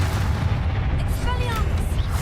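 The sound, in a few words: Confringo spell cast and blast in Hogwarts Legacy video game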